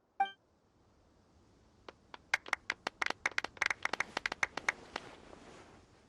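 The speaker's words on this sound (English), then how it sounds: "Let's give our champion Kaveh one last big round of applause." In the video game Genshin Impact, after a short beep, a scattering of sharp claps from a parade crowd builds into a light, sparse round of applause, then thins out and fades.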